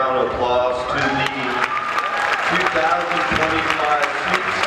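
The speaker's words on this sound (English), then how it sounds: "Can we please give it another round of applause" Audience at a middle school band winter concert applauding with dense clapping and some cheering, loud and sustained, with a voice speaking over it.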